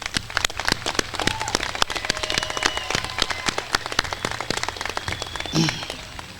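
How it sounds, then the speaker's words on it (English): A graduation commencement crowd at Klamath Community College claps for the class of 2023, a dense patter of many hands at moderate distance, steady for several seconds with a brief cheer near the end. "please let's take a moment to give them a special resounding applause for their accomplishments and achievements"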